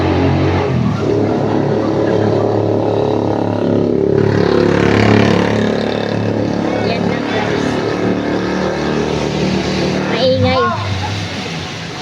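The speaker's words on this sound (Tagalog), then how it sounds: "Maraming maingay na tricycle dito, kakairita." Motorized tricycles rumble past up close, engines droning and revving steadily, with faint voices mixed into the traffic noise.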